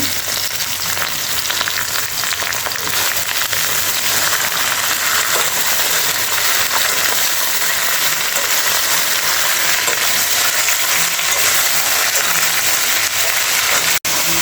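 Taro stolons frying in hot oil with browned garlic and black cumin give a loud, steady, close sizzle that runs throughout, with one sharp click near the end.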